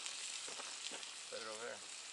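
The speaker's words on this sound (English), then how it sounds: "so I thought I'd cook up some bacon and use the bacon grease" Bacon frying in a cast iron pan at a creek-side campsite, a steady, fairly faint hiss and crackle of grease throughout, with a short voice cutting in near the end.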